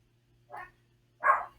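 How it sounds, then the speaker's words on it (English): Two short barks from a dog a short distance off, the first softer and the second louder, separated by a pause of about half a second over a low steady hum. "Dogs are barking."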